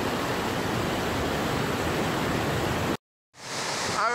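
Rushing floodwater pours loudly and steadily over a waterfall in Trinidad, a dense continuous roar that cuts out abruptly for a moment and then resumes.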